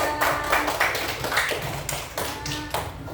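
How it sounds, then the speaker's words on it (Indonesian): Third-grade schoolchildren clap their hands together in a classroom in a string of sharp, slightly uneven bursts, close and lively, with no talking over them. "Tepuk tangan dulu"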